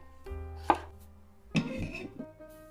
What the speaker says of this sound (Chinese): 红葱头一分为二